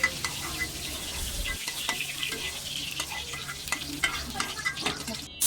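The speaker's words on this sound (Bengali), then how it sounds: "এখন আমি চুলায় আর একটু তেল দিয়ে পেঁয়াজ দিয়ে দিয়েছি। পেঁয়াজটা একটু ভালোভাবে ভাজা হবে।" Onions frying in oil in a pan on a home stove, with a steady close sizzle and crackle, a few soft stirring scrapes and light clinks of the pan throughout, no talking.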